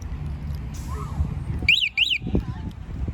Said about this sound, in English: It's got a motorcycle alarm on there.